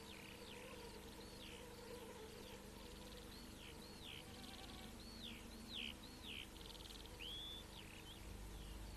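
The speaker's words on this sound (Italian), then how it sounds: "il ronzio degli insetti" Insects buzzing and chirping in a mountain meadow in the Vosges, with repeated high trilling calls over a soft steady hum, fairly faint and with no one speaking.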